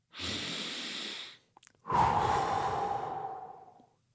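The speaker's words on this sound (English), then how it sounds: "Let's take a deep breath, Ryan." Two slow, deep breaths with no talk: a long airy inhale lasting about a second, a short pause and a faint catch, then a longer and fuller exhale that trails off gradually. Both are close and clearly audible.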